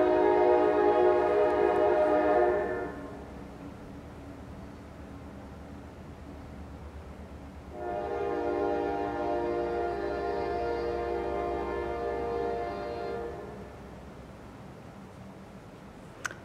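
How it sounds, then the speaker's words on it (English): Two long blasts of a train horn, loud and sustained, separated by a pause, over the low continuous rumble of a passing train. "I think the train is getting ready."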